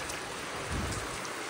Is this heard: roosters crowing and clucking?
no